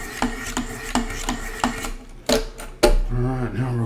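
Knife edge drawn across Wicked Edge Pro sharpening stones in a series of short, crisp scraping strokes, close and fairly quiet, ending in a sharper clack and a low hum.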